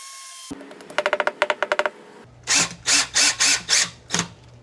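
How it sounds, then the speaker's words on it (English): A quick run of mechanical clicks, then a power drill whirs in several short, loud bursts with brief pauses between them, drilling screw holes to mount an outdoor speaker. "I'll mark my screw holes and get to drilling."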